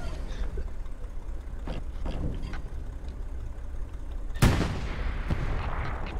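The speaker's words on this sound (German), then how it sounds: "Wer schießt da?" Gunfire in the Hell Let Loose video game during a tank battle on Utah Beach, with one sharp loud shot standing out over a constant rumble of engine and battle noise, followed later by a fainter second report.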